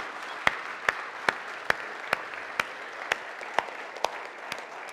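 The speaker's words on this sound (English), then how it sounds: "So should we give them a big round of applause?" Church congregation applauding the children after a Christmas Eve crib service, light diffuse clapping with a steady series of sharp, evenly spaced claps standing out above the wash.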